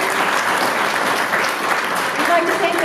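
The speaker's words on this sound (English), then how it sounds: "So give yourselves a round of applause." A seated audience at a community panel Q&A breaks into sustained applause, a dense, loud wash of clapping that continues steadily throughout, with voices faintly audible beneath it.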